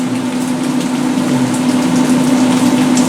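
Steady rain pours out of a house gutter outside during a wet cookout with a Pit Boss Lexington Onyx Edition smoker. It makes a constant loud wash of falling water with a low hum running underneath, and no one speaks.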